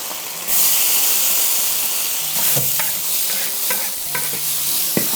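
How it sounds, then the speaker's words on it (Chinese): Shredded bamboo shoots with garlic and scallions stir-fried in a hot wok with broad bean paste, a steady loud sizzle with scraping spatula strokes and clinks repeating throughout. "给它清炒一下"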